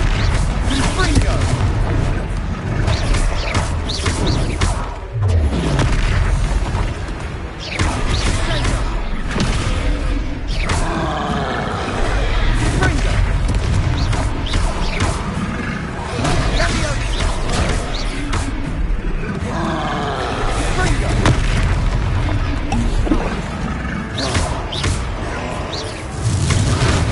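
Confringo blasting-spell explosions burst in a Hogwarts Legacy battle, with repeated loud booms and crashing impacts over a continuous rumble of combat while voices shout in between.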